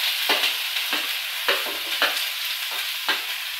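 Shallots (small onions) sautéing in a pan on a tawa, a steady close sizzle broken by repeated scraping stirs every half second or so, with no talking.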